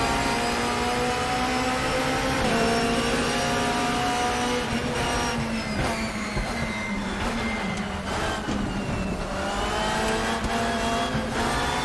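Corvette GT2 race car engine in the RaceRoom racing game at the start of a race on Imola, a loud sustained engine roar with layered harmonic whine and other cars' engines blending in throughout, no talking.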